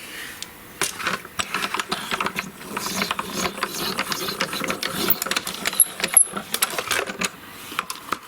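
A Spellbinders BetterPress letterpress machine is cranked through, giving a fairly quiet run of irregular mechanical ratcheting clicks and gear-like clatter that continues steadily for several seconds.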